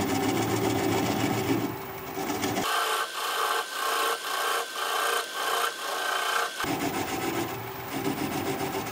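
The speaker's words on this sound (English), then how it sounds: "So I'm going to switch to a 3/8 inch sweatback bowl gouge so that I can get in there closer" A 3/8 inch swept-back bowl gouge cuts into wood on a lathe, a steady rasping scrape broken by a quieter middle stretch of rhythmic, pulsing cuts before the full scraping returns, close and fairly loud with no talk.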